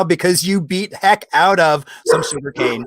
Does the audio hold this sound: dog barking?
yes